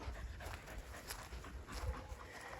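A dog pants softly during an off-lead training session, a faint, quick, rhythmic breathing heard close by with no talk over it.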